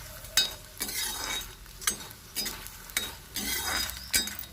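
Edible gum (gond) frying in desi ghee, a bubbling sizzle broken by repeated scraping stirs of a spoon against the pan, about eight strokes in an even rhythm, close and clear.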